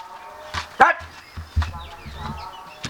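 Dog barking close to a house with an open gate, a few sharp separate barks mixed in among people talking.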